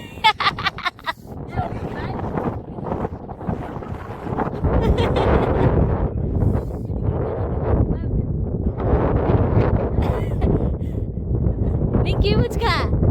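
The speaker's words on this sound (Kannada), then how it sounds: "ಅಷ್ಟು ಗಾಳಿ ಇದೆ, ಹೊಡಿತಾ ಇದೆ ಗಾಳಿ." Strong wind blows against the face and microphone during a foggy family trip to Chikmagalur. Loud gusty rumbling buffets continuously while people talk over it.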